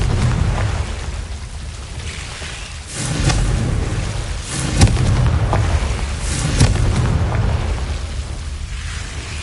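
Fiery spell blasts from the Confringo curse in Hogwarts Legacy roar loudly and continuously, with repeated booming bursts and crackling rumbles layered over one another.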